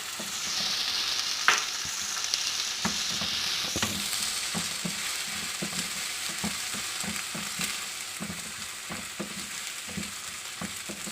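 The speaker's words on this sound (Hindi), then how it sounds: "अब हम इसके अंदर लहसुन अदरक शामिल करेंगे और इसकी अच्छी तरह भुनाई करेंगे।" Onion, garlic and ginger sizzle steadily in a hot pan while a spoon stirs with soft repeated scraping clicks, close and continuous.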